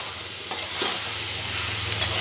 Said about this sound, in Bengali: ভালো করে মিশিয়ে নেবো এই আদার সঙ্গে সবজিগুলো